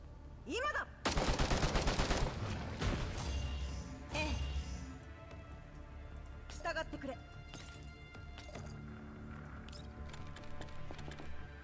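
Gunfire from the video game Girls Frontline 2: Exilium, a loud dense burst of rapid shots followed by several shorter volleys spread across the clip, with voices talking over the action.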